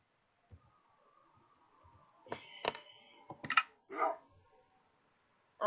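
Tamed wolves in Minecraft, a video game, give a scattered series of sharp bark-like yips, several close together in the middle of the clip, over quiet background clicking.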